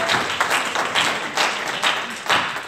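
Church congregation at a youth and children's week celebration clapping for the Lord, dense rhythmic group claps in loud repeated bursts filling the room.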